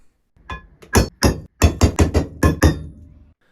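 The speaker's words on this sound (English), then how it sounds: "we're gonna punch out all the holes." About ten sharp metallic hammer strikes on a punch against steel channel, punching holes, close and loud, in a quick, slightly irregular rhythm.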